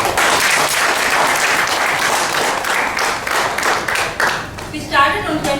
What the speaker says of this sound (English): a very big round of applause to all the Miyapur Toastmasters who have strived to make this possible